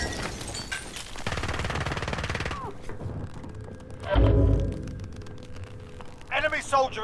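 Gunfire in Call of Duty: Modern Warfare, a domination match on the Storage Town map. Bursts of shots and mechanical clatter come through under game announcer voice lines, with a loud close thump partway through and a voice near the end.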